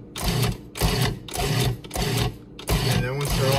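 A kitchen chopper pulsed in short bursts to chop vegetables for ghormeh sabzi, five or so loud whirring pulses separated by brief pauses, close by.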